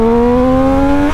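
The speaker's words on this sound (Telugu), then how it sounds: "this thing accelerates like a fucking beast" A Triumph Street Triple motorcycle accelerating hard, a loud close engine note rising steadily in pitch with strong harmonics, alone without talk.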